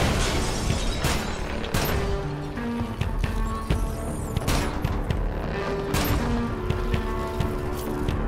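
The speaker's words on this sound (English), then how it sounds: "we'll shoot from back here" Gunfire in the Killzone: Shadow Fall video game, a series of loud sharp shots and cracking impacts recurring over steady rumbling battle noise and a low hum throughout.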